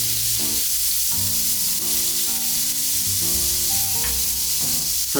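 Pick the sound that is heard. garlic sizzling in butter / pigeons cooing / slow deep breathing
garlic sizzling in butter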